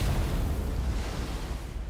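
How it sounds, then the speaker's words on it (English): An explosion sound effect from a 2D hand-drawn animation is a deep rumbling boom that roars steadily for about two seconds, loud and close, heavy in the low end, then slowly fades. "That's 2D hand-drawn explosions."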